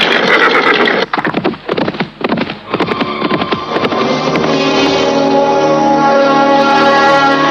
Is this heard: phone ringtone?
no